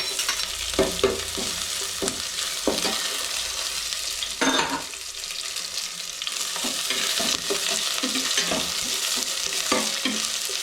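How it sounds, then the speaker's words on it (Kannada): Crushed garlic fries in hot oil for a pepper chicken dish, a steady close sizzle punctuated by repeated spoon scrapes and stirring knocks against the pan. "ಅದನ್ನು ಚೆನ್ನಾಗಿ ಎಣ್ಣೆಯಲ್ಲಿ ಫ್ರೈ ಮಾಡಬೇಕು. ಜಜ್ಜಿರೋ ಬೆಳ್ಳುಳ್ಳಿನ ಹಾಕ್ತಾಯಿದ್ದೀನಿ."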